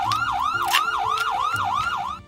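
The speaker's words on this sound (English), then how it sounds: "thank you for the siren" A siren alert sound plays as an on-stream donation alert, a rapid wailing yelp cycling evenly for about two seconds over a faint repeating low tone before cutting off.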